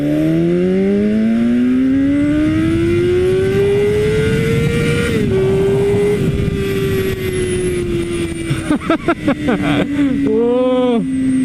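A BMW S1000RR sport motorcycle in Sport mode revs hard and loud, engine pitch climbing steadily, dipping briefly, then holding high before several quick blips and a final rise and fall.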